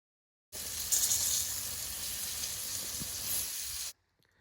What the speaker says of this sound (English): we'll just place the chicken to start shallow frying in a medium to high heat